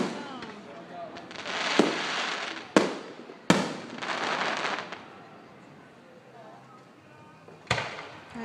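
Fireworks bursting over Goleta, California in 2013, sharp booming reports at irregular intervals with crackling tails between them, fairly close, with people talking in the background.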